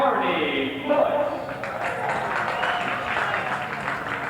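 Crowd noise at a 1987 outdoor soccer match between the San Jose Earthquakes and their alumni rises and holds as a broad, loud roar after a goal, with a commentator talking over it.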